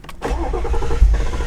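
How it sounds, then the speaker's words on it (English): Nissan 350Z engine cranks briefly and catches, a close, loud rumbling start with a low churning note and a sharp surge near the end. "it'll just keep cranking until it blows the starter"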